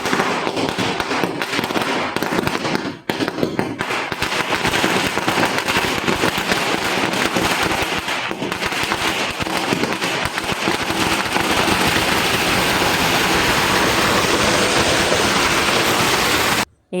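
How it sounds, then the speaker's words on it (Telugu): Firecrackers bursting in a residential street for New Year, a dense, continuous crackle of rapid pops and bangs that stays loud and close, like pouring rain, with no talking. "ఫైనలీ అయితే టపాసులు పెట్టేశారు గల్లీలో."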